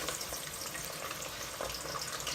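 Chicken frying in oil in an open karahi, a steady close sizzle and crackle of hot oil running throughout without talk.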